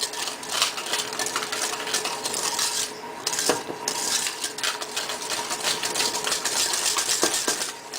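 Flour gets whisked vigorously into clafoutis batter in a bowl, a steady rapid scraping and clinking of whisk against the bowl that runs continuously and close.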